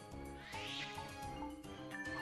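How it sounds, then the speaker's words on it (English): A pet cat meows a few times in a row indoors, short close calls over faint steady background hum. "Silly cat."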